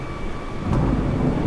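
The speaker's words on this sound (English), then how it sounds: "We're going blown into a thunderstorm." Thunderstorm in Microsoft Flight Simulator, heard during a flight from Scherger, Queensland to Port Moresby: a steady, dense rumble of heavy rain and low thunder, briefly swelling partway through and then holding loud and continuous.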